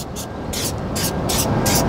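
Nano Skin Wet Shine coating sprayed onto car trim in five quick, loud hissing bursts, close up and evenly spaced over a steady background rumble.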